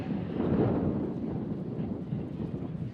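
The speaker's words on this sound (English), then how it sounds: "Little windy, little windy." Low, rumbling wind buffets the microphone continuously at an outdoor rally at the Michigan State Capitol, a muffled roar that swells slightly early on and then settles; no speech.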